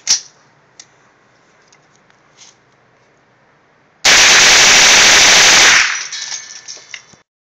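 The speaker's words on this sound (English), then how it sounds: "So let's see how the 22 long rifle Mini Mag does." An M&P 15-22 rifle with an SSAR-15 slide fire stock shooting 22LR Mini Mag rounds. A single sharp shot is followed by a long, very loud, rapid burst of near-continuous automatic-style fire that tails off into scattered clinks.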